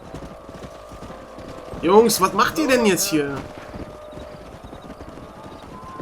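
Horse hooves clip-clop steadily in the western video game Red Dead Redemption, a soft rhythmic clatter beneath someone briefly speaking in German midway through.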